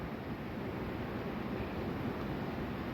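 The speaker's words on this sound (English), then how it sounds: "But look at this wind." Wind gusts across a carp fishing lake at Oxford Linear Carp Fisheries, giving a steady, soft rushing roar with no voices.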